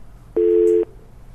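A steady electronic telephone line tone sounds as a call fails to connect, one loud flat beep of about half a second that starts and stops abruptly against a quiet line.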